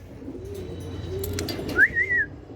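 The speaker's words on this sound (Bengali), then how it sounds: "মাদি কবুতর ডিম বাচ্চা করে" Pigeons at a wholesale pigeon farm give low, steady cooing, with a short rising whistle-like call near the end, close by and moderately loud with no talking.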